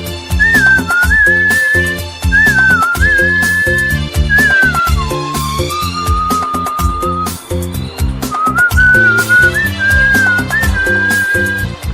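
A person whistles a sustained, melodic tune at close range, with clear gliding pitches and bends, over loud rhythmic backing music throughout.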